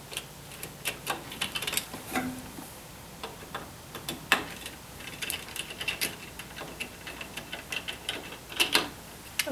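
A screwdriver drives two screws into the bracket holding the reed on the beater of a Little Weaver loom, with faint, irregular clicking and ratcheting ticks close by in a quiet room.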